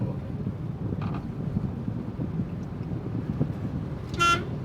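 A vehicle horn toots briefly near the end over steady road and engine noise on a narrow street behind an auto-rickshaw, with a fainter honk earlier in the distance.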